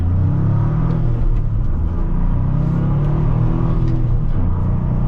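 A 2025 Toyota GR Corolla's engine and stock exhaust while driving, a steady close, moderately loud rumbling drone with slight rises in revs, fairly muted overall.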